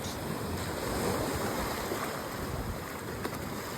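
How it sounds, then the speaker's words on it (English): Ocean waves surge and wash steadily against a rock and sand shore, a continuous broad roar with some wind noise and no voices. "Continuing to be present to those waves coming in and out."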